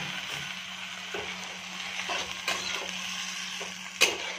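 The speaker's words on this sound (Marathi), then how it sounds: "आता आपण याच्यामध्ये मॅगी घालून घेणार आहोत." Maggi noodles going into a pan and stir-fried for Chinese hakka-style street food, with a steady low sizzle and soft scraping stirs, a sharper clack near the end.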